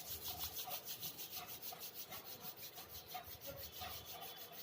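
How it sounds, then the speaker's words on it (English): Palms rubbed briskly together during an eye yoga exercise make a soft, rhythmic swishing friction, steady back-and-forth strokes heard close and quiet with no talking. "and then rub your palms."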